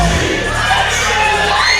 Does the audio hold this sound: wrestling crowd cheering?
yes